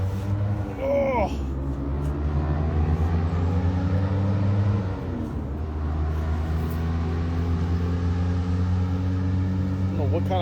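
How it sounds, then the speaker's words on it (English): A loud car passes by on a street in Australia. Its heavy engine rumbles steadily across the whole stretch and rises briefly as it goes by, with faint background noise and a few short higher sounds over the top. "I don't know what kind of car that is, but that's really loud."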